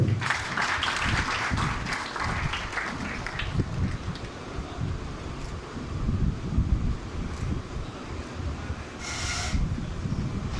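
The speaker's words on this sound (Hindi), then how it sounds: "मोहम्मद नईम खोखर साहब, तालियां जारी रखिएगा।" An audience at a pigeon club race ceremony applauds a shield recipient, fairly faint, scattered clapping with outdoor wind noise and rumble beneath, fading toward the end.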